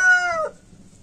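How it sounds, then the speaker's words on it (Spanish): A rooster crows once, close and loud, with the call's drawn-out final note sliding down and cutting off, followed by faint background noise. "ese gallo me está emplumando de verdad. Estas horas se pone a cantar."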